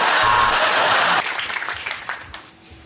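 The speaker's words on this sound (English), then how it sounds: "Nice where the applause ended before you could sit down" Loud studio audience applause rings out for about a second on a comedy panel show, then breaks off abruptly and thins into a few scattered claps and murmurs.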